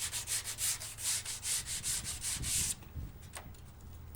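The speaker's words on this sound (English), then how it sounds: "So now I'm using a sanding block" Rhythmic back-and-forth rasping of a sanding block on a wooden guitar neck blank, about a dozen even strokes, then it stops and a few faint knocks follow.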